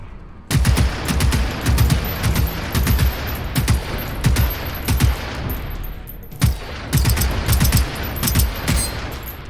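Rapid bursts of automatic gunfire in the video game Generation Zero, loud and dense, firing in repeated volleys with a brief pause partway through.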